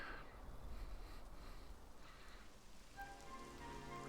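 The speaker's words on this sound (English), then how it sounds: "And now it's raining." Steady rain falling in the Dragon Quest XI S role-playing game, a soft continuous patter with a faint tonal game sound entering near the end, no talking.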